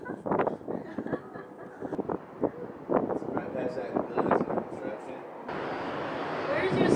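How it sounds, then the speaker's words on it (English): Gusty outdoor wind rumbling and buffeting the microphone, rising toward the end, heard under a person talking in bursts. "It's like extra windy right now."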